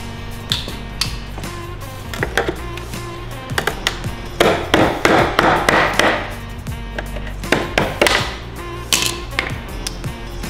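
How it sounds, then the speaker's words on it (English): Bushing being popped out of a roller ski during a repair: a string of sharp taps and knocks, some in quick clusters, close and fairly loud against a quiet workshop background. "we have to pop out the inner bushing"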